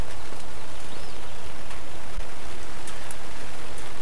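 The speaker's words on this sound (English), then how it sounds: "It's raining a lot." Heavy rain drumming steadily on the canvas of a tipi, a dense continuous hiss and patter close around, with no voices.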